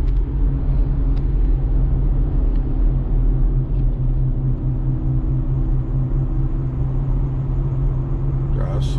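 Steady deep rumble inside a Ford Explorer Sport Trac cruising on a test drive, a constant low engine and road drone filling the cabin throughout with no clear speech.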